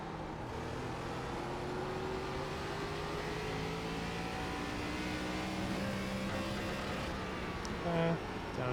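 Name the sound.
race car engine accelerating in iRacing ARCA video game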